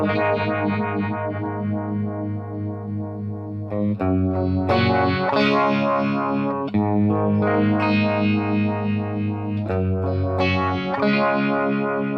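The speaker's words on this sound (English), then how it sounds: "It's not the purest of vibe tones, it's probably just a tweaked phaser" Sustained electric guitar chords through a Strymon Mobius phaser set for a vibe-style tone, swirling and phasing, loud and continuous, with a few chord changes.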